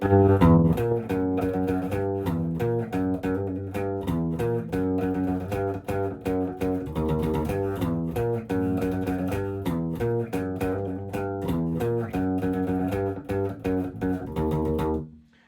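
A distorted electric bass plays a steady, repeating riff of quick notes for about fifteen seconds, then stops abruptly.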